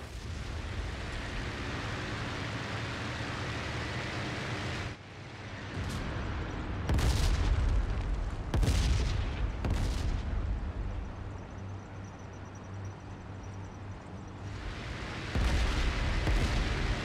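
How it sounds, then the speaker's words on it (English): Aircraft gunfire and explosions in the IL-2 Sturmovik flight combat game boom over a steady engine drone, with several heavy bursts clustered in the middle and a final one near the end, loud and close, with no talk. "Been struck by some aircraft fire."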